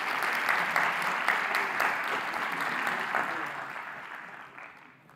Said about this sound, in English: Very warm applause, please.